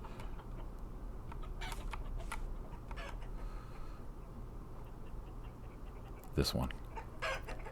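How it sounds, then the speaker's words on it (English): Chickens and a rooster in the Vintage Story game cluck sporadically at moderate distance over a low ambient hum, with a brief louder squawk near the end and a few short spoken words. "trying to look at these damn things and figure out which one's the rooster"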